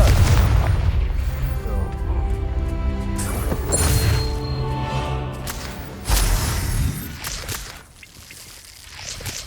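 Confringo fire spell blasts in Hogwarts Legacy, heavy booming explosions and crashing impacts in a dense, loud combat mix with repeated bursts over several seconds.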